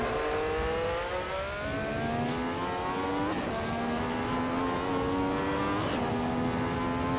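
A Ferrari 312T racing car engine in Assetto Corsa at Monza drones steadily at high revs, its pitch climbing through gear changes with brief shifts, continuous and fairly loud with no voices.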